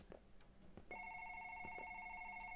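In the indie horror game One Late Night, a telephone starts ringing in an office after a few soft thumps, a steady electronic tone that sounds continuously at moderate level.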